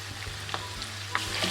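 Meat seasoned with black pepper, turmeric, sumac and cinnamon sizzles steadily in a pan for a Kayseri yağlama filling, with a few soft scrapes as it is stirred, close and clear.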